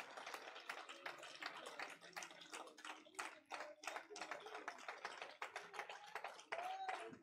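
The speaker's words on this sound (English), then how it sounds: "I said clap for Jesus." Congregation clapping hands in a church service, a dense run of sharp claps with irregular rhythm and voices mixed in beneath, fairly close and steady for several seconds.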